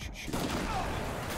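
Brief burst of gunfire in the video game Mullet Mad Jack, loud and dense with booming impacts blending into game noise.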